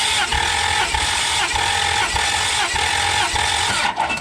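A Ferrari engine cranks over on the starter during a cylinder compression test, a loud, rhythmic churning pulse repeating about every half second before cutting off.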